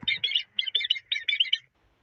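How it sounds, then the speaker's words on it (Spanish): Chicks chirping in quick clustered bursts of high, thin peeps, several short groups in a row, clear and close before stopping. "Pollitos."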